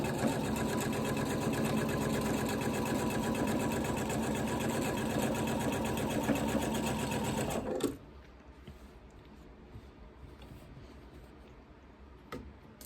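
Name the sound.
sewing machine stitching quilt binding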